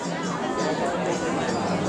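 Steady babble of a large crowd gathered at a Balinese cremation ceremony, many overlapping voices blending into a continuous murmur without a single clear speaker.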